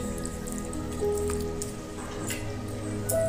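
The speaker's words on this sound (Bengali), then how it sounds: "এই পাবদা মাছের ঝালটা আমি সুন্দর করে ফুটিয়ে নিচ্ছি।" Pabda fish curry bubbling steadily in a pan, a continuous soft patter of small drips and pops with a faint kitchen hum underneath.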